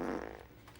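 A short, soft fart sound from a scene in the TV comedy The Office, heard briefly on its own with no talk over it.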